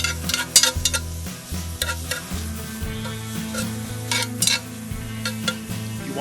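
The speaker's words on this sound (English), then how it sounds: "Hopefully, start some good sizzling for that sausage." Steady sizzling of sausage frying in a Dutch oven over an open fire outdoors in the Adirondacks, with occasional stirring scrapes and clinks over the continuous crackle.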